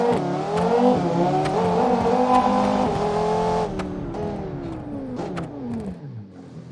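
A V10-powered car with auto clutch revs hard in BeamNG, its loud harmonic engine note climbing and holding, then easing and dropping away, with a few clicks and squeals along the way.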